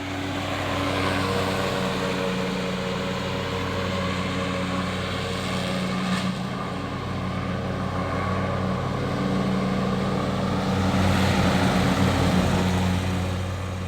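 A riding lawn mower engine drones with a low, even hum the whole time, swelling slightly near the end, with no talking.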